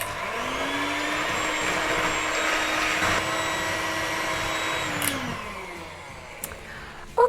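A mixer whirs steadily as it beats eggs and sugar for brownies, a continuous motor whine that holds for several seconds before winding down, with no speech.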